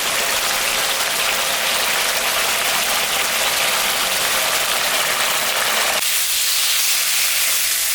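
A spice paste of ginger, cumin, green and dried chillies frying in a pan for a fish curry with papaya, giving a loud, dense, continuous sizzle up close that softens slightly near the end, with no talk.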